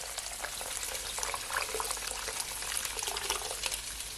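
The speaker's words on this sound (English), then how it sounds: "I'm adding at least 8 to 10 cups of hot water from my kettle" Hot water from a kettle poured steadily into a bowl of seasoned chicken feet for stock, a continuous bright splashing gush, close and moderate, without speech.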